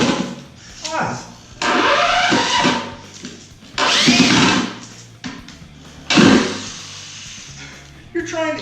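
A power drill whirs in several short, loud bursts, each spinning up and stopping, with a person talking between the runs.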